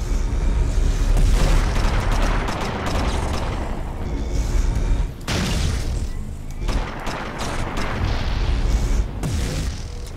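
Port guns firing on enemy airships during a Guns of Icarus battle, a loud continuous barrage of booms and mechanical clatter with a brief lull around the middle before the firing resumes.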